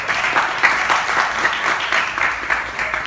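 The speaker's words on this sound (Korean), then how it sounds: "박수로 환영하겠습니다." Steady applause from a church congregation welcoming a new youth ministry leader, dense clapping sustained at an even loudness for a few seconds with no voices over it.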